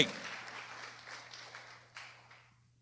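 Church congregation gives a short, moderate round of applause during a sermon, the clapping tapering off over about three seconds above a steady low hum.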